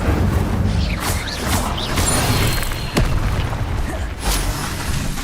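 Repeated fire-spell blasts in the Hogwarts Legacy video game, loud booming bursts with crackling impacts layered over continuous combat noise, several distinct hits within a few seconds.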